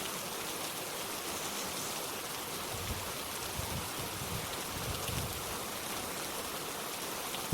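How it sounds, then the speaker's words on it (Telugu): Steady rain falls at a dam viewpoint in Munnar, Kerala, a dense continuous hiss of drops with no pauses, fairly loud and broadband, with no voices. "వర్షం అయితే పడుతూనే ఉంది"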